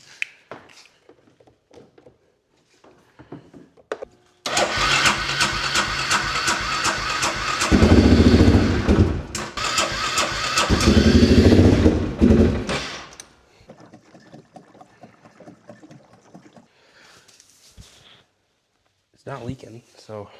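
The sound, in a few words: four-wheeler ATV engine cranking and trying to start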